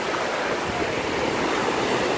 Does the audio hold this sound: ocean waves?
yes